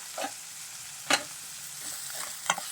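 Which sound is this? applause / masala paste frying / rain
masala paste frying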